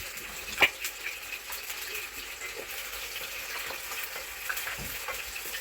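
Onions frying in a pan and stirred with a wooden spoon, a soft steady sizzle with occasional light knocks and scrapes, fairly quiet and without voices.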